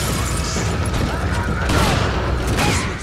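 Shotgun blasts and scattered gunfire in Resident Evil 4, a dense, continuous barrage of booming shots with game action noise, loud and steady throughout the short stretch.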